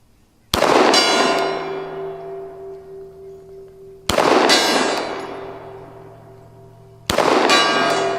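Three loud gunshots, each followed by a long ringing clang from a distant steel gong target, the metallic tone slowly fading between shots.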